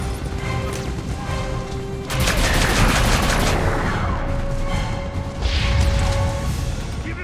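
Loud, dense shotgun blasts and crashing impacts in the sci-fi shooter game Mass Effect 3, a sustained burst of heavy gunfire over a rumbling battle soundscape, with a second surge near the end.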